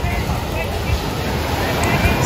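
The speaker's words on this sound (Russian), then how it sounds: "потому что волны большие второй день подряд" Large stormy sea waves on a beach in Alushta make a continuous, loud, broadband roar of surf with wind across the whole stretch.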